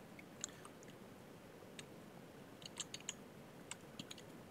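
Scattered keystrokes on a computer keyboard, soft close clicks arriving in short irregular bursts against a quiet background hum, with no talk.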